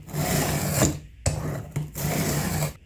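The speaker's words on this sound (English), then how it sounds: "I'm going to go ahead and keep grinding away until I reach the full length of the bevel" A hand plane blade's bevel is ground on a diamond stone lubricated with alcohol, giving close, gritty rasping strokes in three back-and-forth bursts separated by brief pauses.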